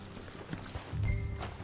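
Horse hooves clip-clopping in Red Dead Redemption 2: a few soft, quiet hoof knocks on the ground with a low snort-like rumble near the end, no speech.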